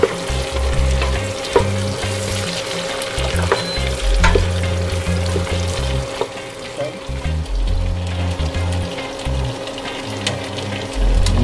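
Ingredients are stirred in a hot pan for Bisaya-style halang-halang with chicken gizzards, giving a loud steady sizzle with repeated close scraping and clinking of the utensil against the pan.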